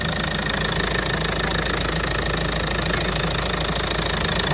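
A 2014 Galaxy with a 2.0-litre diesel engine idles steadily with a dense, even knocking rattle, close and constant, with no talking.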